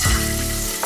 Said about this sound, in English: sear the roulade on all sides until golden brown